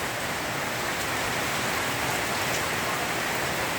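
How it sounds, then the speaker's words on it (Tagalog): Heavy typhoon rain under Signal No. 3 in Paniqui, Tarlac, pours steadily, a dense unbroken hiss with no pauses or other sounds. "Malakas po yung ulan."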